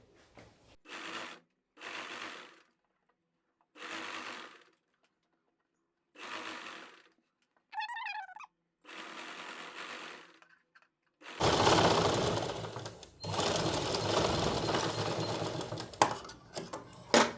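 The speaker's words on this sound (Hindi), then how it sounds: "पहले इन दोनों को हम जोड़ लेते हैं आपस में।" Sewing machine stitching two straight pant legs together in short separate bursts of rapid whirring, then one longer louder continuous run near the end, all close and without talk.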